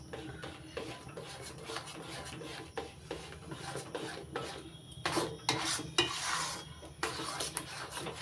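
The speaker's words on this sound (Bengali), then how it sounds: "আমের পাল্প দিয়ে নাড়াচাড়া করে নিচ্ছি।" Thick mango pulp sandesh mixture is stirred in a pan, a spatula scraping and rubbing steadily at close range with rhythmic strokes, louder toward the end, and no one talks.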